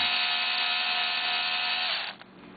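Carbide cutter spinning in a brass primer pocket, a steady close whirring cut that holds for two seconds and then winds down.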